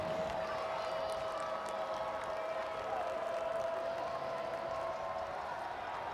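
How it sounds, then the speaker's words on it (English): Homecoming stadium crowd in NCAA Football 2025, Louisiana at Eastern Michigan, a steady broad roar of cheering and applause that holds fairly even and moderately loud throughout, with no talk over it. "This homecoming crowd trying to get into it."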